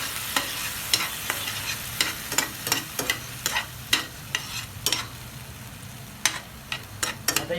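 Ginger, garlic and coriander paste fries in butter, or ghee, in a pan. A continuous sizzle runs under quick, irregular scraping and stirring strokes that sound close and crisp.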